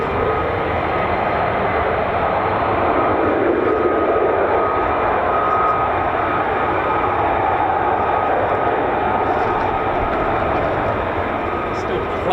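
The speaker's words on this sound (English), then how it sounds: "Still plenty of aircraft to depart. I can hear them coming from all angles here." Several US Air Force fighter jets, F-15s and F-35s, depart RAF Lakenheath in a steady, loud, broadband jet roar that holds throughout without a break, with no clear voices over it.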